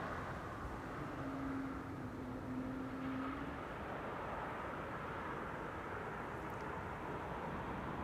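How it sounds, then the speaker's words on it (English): An Embraer 190 airliner arriving at Amsterdam Schiphol from Prague, heard as a steady, distant broadband jet roar that holds evenly throughout with no voices. "Flight 1352, Embraer 190 arrived from Prague, that's what you're hearing"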